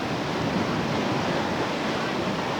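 Whitewater rushes loud and steady as a boat drops through waves off a ledge hole, a continuous broadband roar of churning water with no break across the whole stretch.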